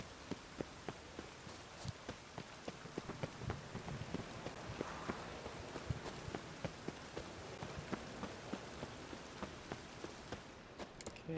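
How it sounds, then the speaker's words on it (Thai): Steady rain falls across a landscape in The Witcher 3, a constant hiss of heavy drops with scattered sharper patters and brief clicks throughout, moderately loud, carrying on alone without speech. "โอ้แต่ฝนตกเนี่ย"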